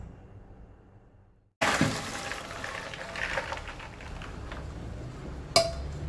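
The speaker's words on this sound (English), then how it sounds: "Just getting rid of that gassy water." Soaking water, left to soak for many hours, is poured away in one continuous splashing, gurgling rush that starts abruptly after a quiet moment, with a brief sharp clink near the end.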